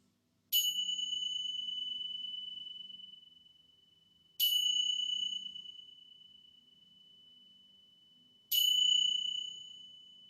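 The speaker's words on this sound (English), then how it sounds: "let the sound of the bells gently guide you back to your physical body" Meditation bells close a yoga class, struck three times about four seconds apart, each clear tone ringing out and fading slowly over a quiet, faintly murmuring room.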